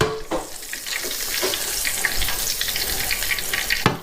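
A knob of butter melting and heating in a pan, a dense, loud, continuous sizzle crackling close by, opening and closing with a sharp clatter, no talking.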